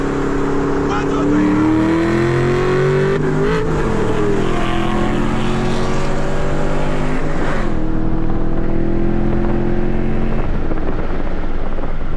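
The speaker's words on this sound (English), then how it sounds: "so we about to run Matt in the 6th gen Camaro" A loud sixth-generation Chevrolet Camaro race car engine revs and climbs in pitch, drops, then climbs again, roaring steadily and close for the whole stretch.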